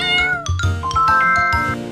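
A domestic cat gives a few drawn-out meows, close and clear over light, tinkling background music.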